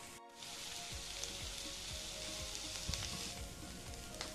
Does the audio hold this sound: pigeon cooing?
no